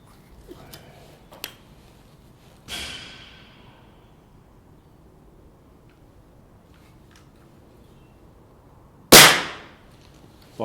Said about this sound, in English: And I'll just take the shot.